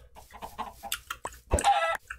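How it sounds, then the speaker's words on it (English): Minecraft chickens cluck in short, soft bursts, followed by one louder squawk near the end, with no talking. "My, these chickens poop out eggs fast."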